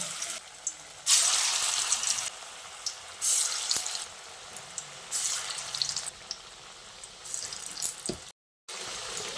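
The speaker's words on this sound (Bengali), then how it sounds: "এবার তেল গরম হয়ে এলে পকোড়াগুলো এইভাবে ছেড়ে দিচ্ছি।" Cabbage pakoras dropped into hot oil, giving bursts of bright crackling sizzle that swell and fade in waves, close and fairly loud, with no talk.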